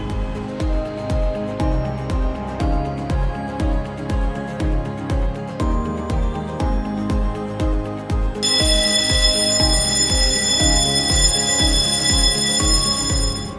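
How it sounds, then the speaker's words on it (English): An alarm repeats in a steady, rapid pulsing pattern, loud and continuous, then shifts to a brighter ringing tone partway through. "follow the evacuation procedure and activate the closest fire alarm push"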